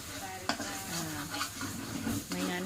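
Egg and vegetables stir-frying in a pan, a steady sizzle with scraping stir strokes and utensil clanks at intervals, close and continuous with no talk.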